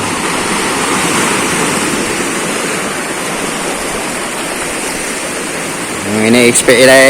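Surf from a large wave breaks and rushes along a shore in General Nakar, Quezon, a steady loud roar of churning water lasting throughout, with a voice speaking briefly near the end.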